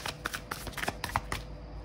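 Tarot cards being shuffled by hand, a quick run of soft crisp flicks and taps close by, with no talking.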